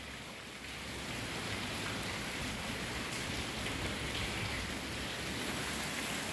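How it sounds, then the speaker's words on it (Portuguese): Light rain falls steadily in Guajará-Mirim, Rondônia, a soft continuous hiss of drops on surfaces that holds even from start to end, fairly faint and with no voices. "É, gente, a chuva começou e já tá querendo parar já."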